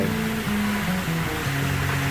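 A waterfall splashes steadily into a koi pond, making a constant broadband rush and low burble heard nearby with no talking.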